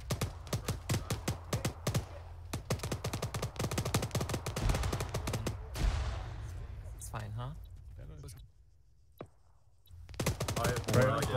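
Rapid bursts of heavy gunfire from a BTR armored vehicle's mounted gun in Arma 3, loud and repeated in dense volleys, with a lull and scattered shots later and voices talking over parts of it.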